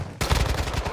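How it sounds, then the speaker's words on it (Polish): A sudden burst of rapid automatic gunfire erupts after a brief quiet moment in the video game Call of Duty DMZ, loud and close, shots rattling quickly together. "Jesteście pod ostrzałem!"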